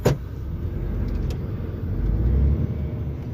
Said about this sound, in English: Now listen to my truck try to take off.